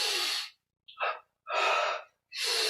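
Four forceful breaths push out in separate bursts during a yoga-style exercise session, close and loud with short silences between them and no talking.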